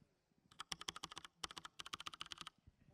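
Rapid Cooler Master mechanical keyboard clicks in two quick bursts, crisp and close, with no voices.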